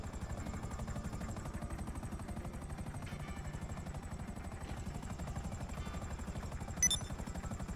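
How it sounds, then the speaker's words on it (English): An evac helicopter in a video game makes a steady, fast rotor chop that thumps continuously at moderate volume throughout, with a brief sharp sound near the end. "I'll shoot up a flare when I want the evac chopper to come back, Jinjab."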